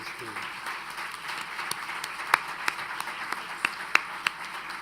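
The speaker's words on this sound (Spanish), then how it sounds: "Pedirles un aplauso para nuestros" Applause from a conference audience for panel speakers at a session on data protection conventions, a steady mid-level patter of clapping with several sharper individual claps standing out near the end.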